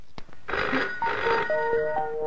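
A telephone rings in a provision store, giving a loud, close bell-like trill that rises and repeats, with almost nothing else around it.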